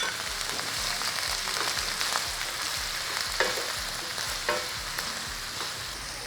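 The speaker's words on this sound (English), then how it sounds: "we are gonna add in about half of our teriyaki sauce, and we're gonna let this continue to cook" Onions and bell peppers fry in a pan with teriyaki sauce, a steady sizzle with rhythmic scraping from stirring.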